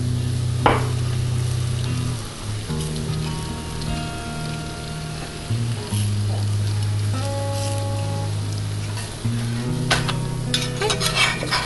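Flatbread fries in a pan of oil, giving a steady sizzle with occasional stirring and scraping clatter, close up and continuous.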